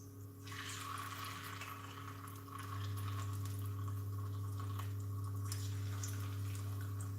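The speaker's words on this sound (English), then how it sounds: "So I'm going to fry the tofu" Tofu frying in a pan on high heat, a steady hiss and sizzle that rises louder partway through and holds, with a low constant hum underneath.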